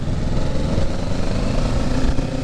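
A Kawasaki Ninja 650 motorcycle engine drones loud and close on a test ride, a dense rough roar with slight surges that fits on-and-off throttle, no voices over it.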